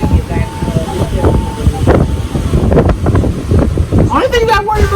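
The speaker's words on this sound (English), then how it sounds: "Strong wind." Strong gusty wind buffets the microphone at a DJI Mavic Mini drone flight in Cancun, Mexico, a loud continuous rumble with gusting swells and a voice speaking briefly over it.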